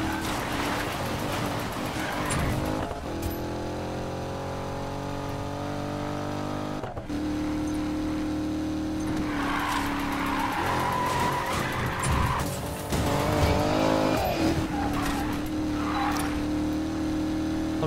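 A Corvette drifting in Need for Speed Payback, engine roaring under sustained screeching tire squeal that rises and falls through a drift zone run, loud and continuous with brief breaks.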